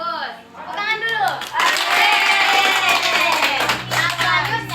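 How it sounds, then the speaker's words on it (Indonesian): Students clapping together in a classroom during a math lesson, a burst of rhythmic hand claps mixed with voices and chatter, loud and close. "Tepuk tangan dulu."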